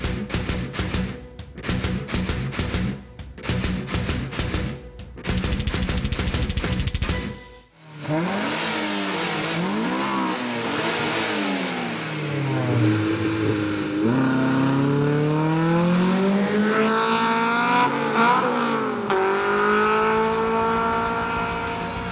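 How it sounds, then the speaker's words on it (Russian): A Honda Civic 1.6 manual and a BMW 523i E39 launch off the start of a drag race, with engines revving and bouncing before the go, then loud rising acceleration and repeated gear-shift dips in pitch, close and sustained. "BMW против Honda. Участники на старт."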